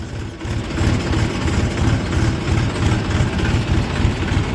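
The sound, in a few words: Eicher 485 tractor engine idling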